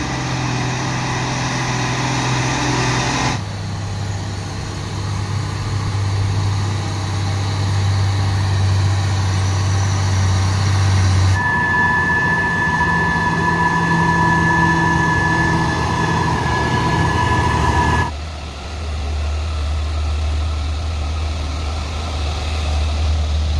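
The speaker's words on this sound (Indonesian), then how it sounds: "Ya, satu unit truk tangki mengambil jalur kanan." A tanker truck in a convoy drives on a road, its engine a loud, continuous drone that shifts in tone several times as it moves past, heard alone without talk.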